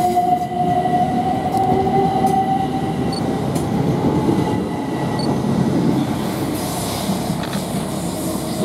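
A Southern Class 377 electric train departing Clapham Junction for Brighton rumbles steadily past, close and loud, with a high metallic whine from the wheels and rails running the whole way through.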